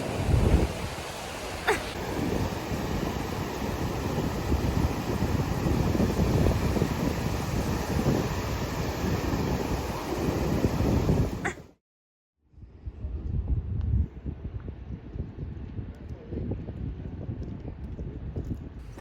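Ocean waves wash onto a California beach with steady, loud surf and wind buffeting the microphone, broken by a brief drop to near silence before the surf resumes slightly quieter.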